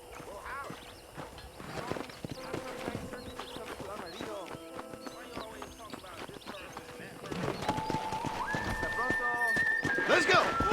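Horses gallop in Red Dead Redemption with rapid hoofbeats and a loud neigh, while voices talk over the ride and the sound grows denser and louder toward the end.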